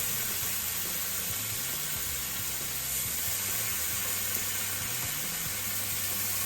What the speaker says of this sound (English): hear that bacon sizzle?